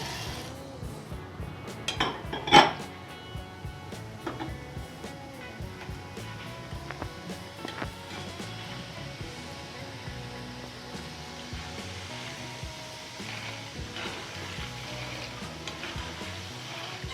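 Dal frying in a pan of hot oil for a dry-fruit poha chivda, with a steady close crackle and faint rattle throughout and a few sharper metallic clinks near the start.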